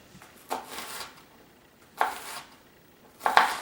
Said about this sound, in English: And now this is when we will do our dicing